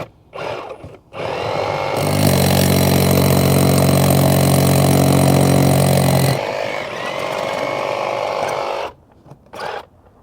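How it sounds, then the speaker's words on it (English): A power drill whines loudly at a steady pitch for several seconds, grinding through a hollow cinder block, then winds down; brief clunks before and after. "I'm drilling through a cinder block, which obviously has two sides and a hollow in between it."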